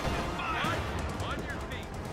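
Anti-tank gun firing in a World War II multiplayer video game, with a few sharp gunshot bursts over a constant loud battle din and a voice talking.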